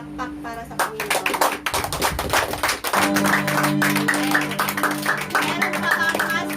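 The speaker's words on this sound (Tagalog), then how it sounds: "Isang malakas na palakpak para sa Panginoon" A church congregation claps loudly during a worship service, rapid dense applause with sharp hand claps running continuously, joined partway by a sustained musical drone underneath.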